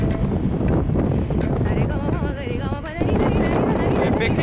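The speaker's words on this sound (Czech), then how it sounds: "Hlavně vítr," Strong wind gusting across an exposed trail in the Fann Mountains, a loud steady roar buffeting the microphone throughout, with someone speaking under it.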